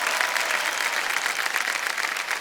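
Studio audience applause on the KBC India quiz show set, a steady, full wash of many hands clapping together at even strength throughout.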